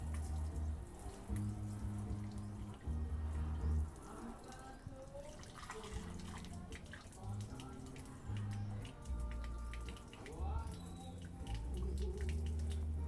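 Water running steadily from a tap in a home, a continuous splashing stream with drips, while people talk faintly in the background.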